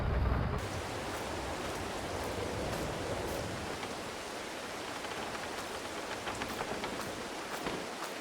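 Steady rain falls in Farming Simulator 22, a continuous hiss of drops on surfaces with faint ticks scattered throughout.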